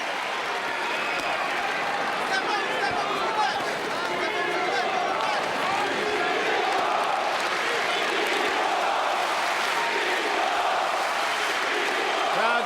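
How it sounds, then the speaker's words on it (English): A boxing arena crowd roars and chants rhythmically for Klitschko, a dense continuous wall of voices and applause, loud throughout. "Crowd chanting, Klitschko"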